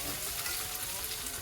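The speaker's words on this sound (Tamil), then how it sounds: "இதை நல்லா அப்படியே கொஞ்சம் நேரம் வதக்கி விட்டுக்கலாம்." Shallots and green chillies sauté in hot oil for a goat blood fry, giving a steady, close, even sizzle with soft crackles throughout and no voices.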